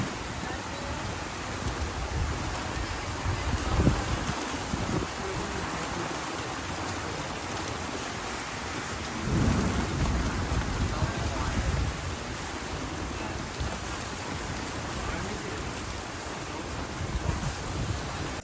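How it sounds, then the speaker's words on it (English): A heavy storm drums steadily outdoors, a dense, loud wash of falling rain that never lets up. A few low surges swell through it, and no one speaks. "We just got mad interrupted by a storm."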